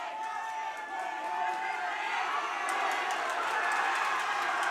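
Boxing crowd at a live fight night roaring and cheering steadily as one fighter pours on pressure, a broad, sustained swell of voices that builds slightly toward the end.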